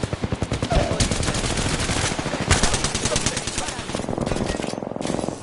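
Rapid automatic gunfire in the video game Apex Legends, loud and close, with dense bursts running almost continuously and a short lull near the end.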